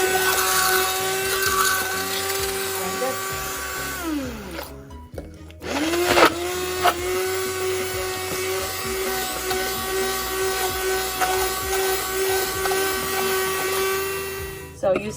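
A blender whirs loudly while mixing tandoori chicken marinade, its motor running steadily, briefly stopping and restarting with a rising spin-up whine before settling back into a constant buzzing drone.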